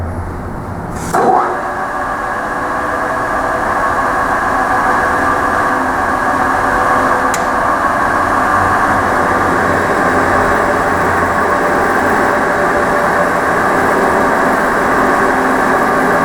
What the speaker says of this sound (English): We're not using any coolant. We're pulling about 80 thousandths. Machine's not even struggling.